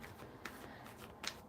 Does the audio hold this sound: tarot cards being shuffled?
yes